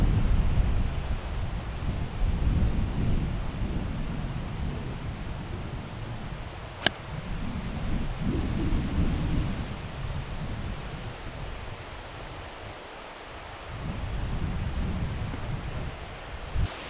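Strong wind buffeting a microphone on a golf course, a loud, continuous roaring rush that swells and eases in gusts, with one brief sharp click midway and no voices.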